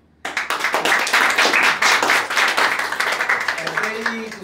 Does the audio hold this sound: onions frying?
no